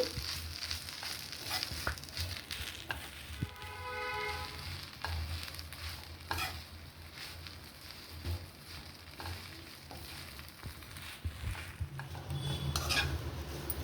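Drumstick leaves are stir-fried dry in a pan. A spatula scrapes and clinks steadily against the metal over a soft, continuous sizzle, close but fairly quiet, with no talk.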